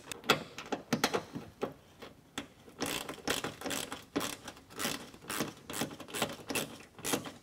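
A ratchet backing out 7mm bolts inside a truck's fender well, rapid close clicking in steady runs broken by brief pauses, with no voices.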